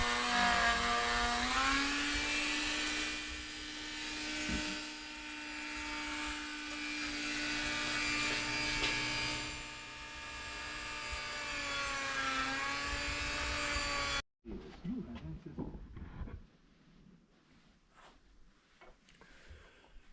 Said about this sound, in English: we're now recutting the valve seats